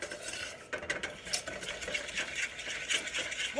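A spoon stirs cake glaze in a pot to work out lumps, quick repeated scraping and clinking of metal against the pan in an uneven rhythm, close and moderately quiet.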